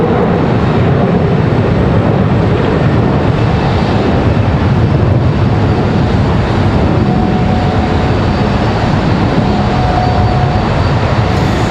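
A United Airlines airliner passing at Charlotte Douglas airport, a loud, steady jet roar that holds broadband and unbroken for the whole stretch, with no voices over it.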